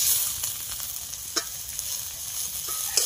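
Chopped tomato hits hot spiced oil in a pan, giving a continuous soft sizzle with a few sharp crackles and pops scattered through the short stretch, close and moderately quiet.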